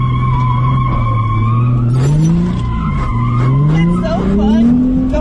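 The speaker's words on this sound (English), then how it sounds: "these two semis drifting in circles" Two semi trucks drifting in circles, loud continuous tire squeal rising and falling as the rigs slide round, with engine drone beneath.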